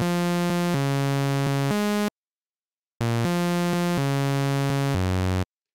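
A Serum synth lead preset plays a basic waveform set one octave down, giving a bright, buzzy electronic melody in two phrases of short and held notes separated by a brief silence.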